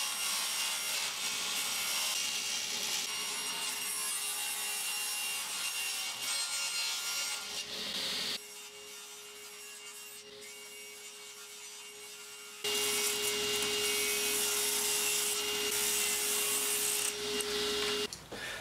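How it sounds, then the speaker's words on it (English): Wood strips about 46 millimetres wide are cut for a model car case, a continuous loud saw-like buzz running throughout with a steady tone, dropping quieter for a few seconds midway before returning at full strength. "So now I'll cut the strips"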